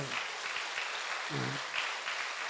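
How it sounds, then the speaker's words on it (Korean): Applause from a church congregation at a special dawn prayer service, a steady broadband patter throughout with a brief low hum partway through, moderately loud and filling the room. "이 정도 얘기하면 박수 한번 쳐줘도 괜찮아요"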